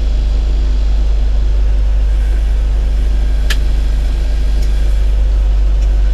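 A 1970 Land Rover 88 Series II survivor's engine idling down, a loud steady low rumble with constant drone and one brief clank partway through, close and unbroken.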